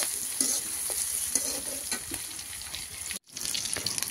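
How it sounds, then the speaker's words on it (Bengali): Green chilies and chopped onion fry in hot oil in a kadai, a steady close sizzle with occasional stirring clinks, briefly cut off near the end before resuming. "কড়াইয়ের মধ্যে তেল দিয়ে ভালো করে গরম করে কাঁচামরিচ এবং পেঁয়াজের কুচি দিয়ে দেবো। এগুলো এখন ভাজা ভাজা করে নেব।"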